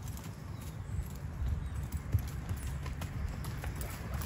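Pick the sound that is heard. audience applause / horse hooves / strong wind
horse hooves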